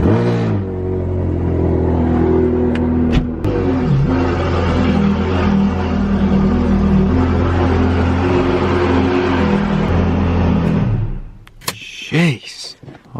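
A Ferrari 430 engine rumbles loud and close as the car is driven back in, holding a steady throaty idle and low revs before cutting off, followed by brief knocks and whoosh.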